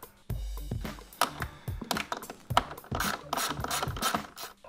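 A socket wrench ratchets on grille fasteners of a 2018-2019 Ford F-150, giving close, quiet clicking and scraping bursts in an irregular rhythm with short pauses between strokes.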